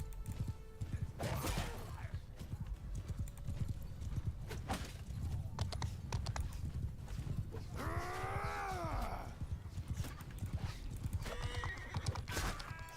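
Galloping horse hooves in the video game Bannerlord, a steady rapid clip-clop throughout with a loud horse whinny partway through and battle noise behind.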